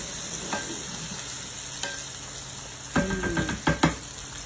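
Tomatoes sizzle and fry in a pan with a steady close hiss, punctuated by a few sharp scraping clinks of stirring near the end.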